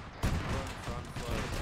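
Ammunition cooking off inside a BMP armored vehicle in a military video game: a dense, loud barrage of crackling pops and heavy thuds that rumbles on without pause.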